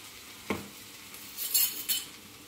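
Black rice mixed with salt and white chili gets stirred in a pan, giving a single clear scrape followed by a few quick metallic clinks of a utensil against the pot, with no talking.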